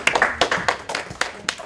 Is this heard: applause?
yes